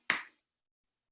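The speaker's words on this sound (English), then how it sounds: "clap those hands" One sharp hand clap during a warrior 2 yoga pose, a single close, crisp smack that fades quickly into silence.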